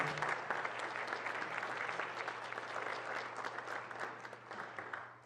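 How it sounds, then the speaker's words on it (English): Sustained applause from an audience honoring veterans at a city council meeting, steady dense clapping filling the room at moderate volume for several seconds with a faint low hum beneath. "And let's give them a round of applause for all that they do."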